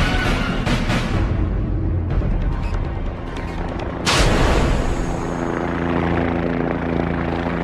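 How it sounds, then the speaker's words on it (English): Helicopter in flight, a loud continuous rotor roar with heavy low rumble and a sudden surge in intensity partway through as it passes close by. "Of course, it's the helicopter. The most versatile flying machine ever invented."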